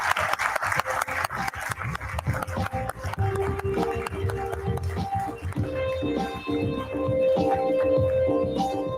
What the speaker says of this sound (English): Let's have a round of applause for squadron leader Nikita Malhotra